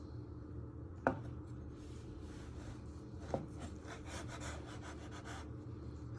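A knife chops chorizo on a cutting board, giving a couple of sharp near thuds followed by steady scraping and rubbing of the blade, fairly quiet and with no voice.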